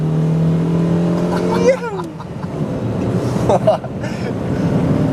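A Mercedes W123 pulls onto a motorway in second gear, its engine note climbing and shifting as it accelerates, heard from inside the cabin with someone talking over it.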